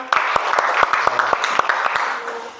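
Scattered clapping from a small classroom group, with distinct individual hand claps landing irregularly over a couple of seconds, close and fairly loud.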